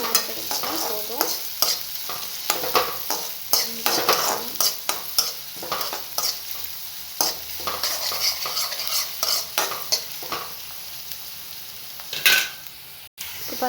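Onions fry in a pan with green chillies while a spoon scrapes and stirs them in repeated sharp strokes, metal clinking over a steady close sizzle, with no one talking.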